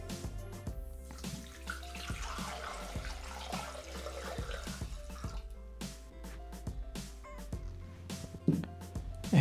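Water poured into a Thermomix TM6 bowl holding ginger, lemon juice and lemon peel, a steady running splash with drips over a low background hum and a sharper clatter near the end.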